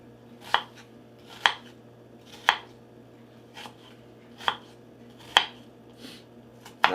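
Onion being chopped on a board with a knife for pot roast, sharp distinct knocks at a steady, unhurried pace, about eight strikes, close and clear over a faint background hum.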